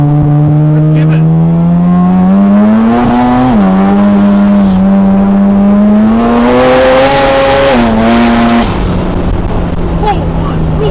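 A 730 HP turbocharged 13B rotary Mazda RX7 FB accelerating hard, its loud buzzing engine note climbing steadily through the revs with brief dips at gear changes and turbo whoosh, a person talking over it.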